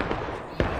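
Musket volley fire in the Civil War video game War of Rights: one sharp, loud crack of fire bursts out over a low, steady background din in a very short moment.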